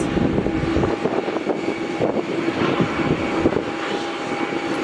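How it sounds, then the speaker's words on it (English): A Jetstar A320 airliner pushes back from the gate at Melbourne Airport, its engines giving a steady, fairly loud hum and rumble with faint clatter mixed in, heard alone without voices. "we have a JetStar A320 pushing back now from the gate"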